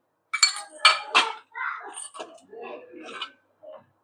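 A spoon clinks against a pan as turmeric is added over cumin and mustard seeds, with a quick run of bright metallic taps followed by softer scraping and knocks, close and fairly clear against a quiet background.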